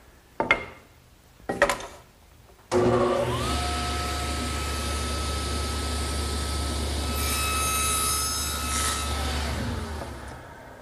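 A table saw cuts a tenon in a 2x4 with the blade set to a 3/8 inch depth: two knocks come first, then the motor starts and whines loudly and steadily for about seven seconds before spinning down.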